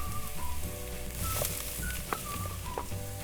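Potatoes, peas and carrots sauté in a pan with a steady, close sizzle and faint chirps over it, no voices.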